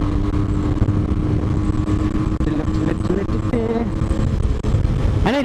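A Yamaha RD125LC two-stroke motorcycle rides after an engine rebuild, its engine droning loudly and close with shifting pitch as it accelerates, under road and wind noise.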